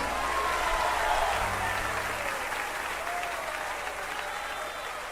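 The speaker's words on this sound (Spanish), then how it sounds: "Aplaude la grandeza de nuestro Rey." A church congregation applauds during a worship service, producing a continuous, fairly soft wash of clapping with a low hum underneath.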